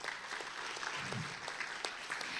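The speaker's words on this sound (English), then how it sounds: "a big round of applause" Audience applause at an ASEAN-Korea culture forum, a steady moderate wash of clapping from a seated crowd that holds evenly for the full length.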